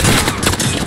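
Machine gun fire in Call of Duty Modern Warfare, a loud, dense and continuous fusillade filling the whole moment with close, rattling shots.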